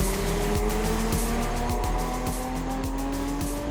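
A Toyota Camry TRD sedan launches hard, its engine note climbing through rising harmonics with brief dips at each upshift, a steady smooth drone close to the microphone with no talking.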